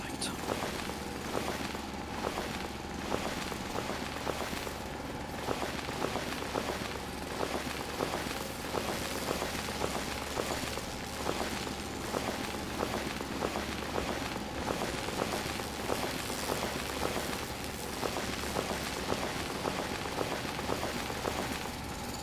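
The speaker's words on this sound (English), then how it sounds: "raining" Steady rain in a video game, a constant dense patter filling the whole stretch at even loudness, with faint repetitive ticking layered over it and no voices.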